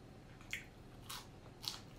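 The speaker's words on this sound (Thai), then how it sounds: "ผักแบบเก็บมาสดๆมันก็จะกรอบๆ หวานๆ" Fresh crunchy vegetables just picked from a garden are bitten three times, each crisp crunch short and close, spaced evenly over a quiet background.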